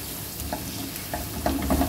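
Quiet sizzle of ginger and garlic frying in a pan with a few scraping stirs toward the end, close by and brief.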